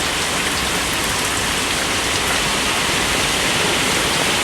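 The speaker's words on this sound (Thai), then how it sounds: "บรรยากาศฝนตกนะครับผม" Dense, steady downpour roars continuously, loud and close, with no pauses or voices.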